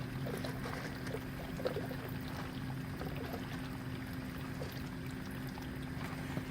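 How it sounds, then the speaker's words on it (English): An aquaponics siphon draining water down from a grow bed into a fish tank, a steady, low, gurgling pour with a faint hum beneath, continuous and moderately close with no talking. "It'll siphon all that water down just about to the bottom."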